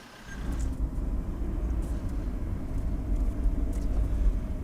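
A car is being driven in Portugal toward a Galp petrol station, with a steady low engine and road rumble heard continuously from inside the vehicle.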